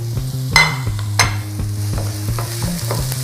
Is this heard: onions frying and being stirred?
yes